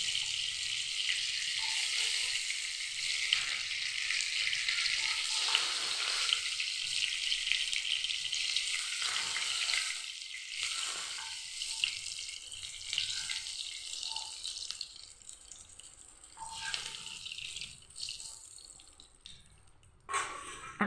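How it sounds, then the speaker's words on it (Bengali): Pointed gourd (potol) sizzling in hot oil, a steady close frying hiss that fades and breaks up in the second half, with a few louder crackles near the end. "আমার পটলগুলো ভাজা হয়ে গেছে,"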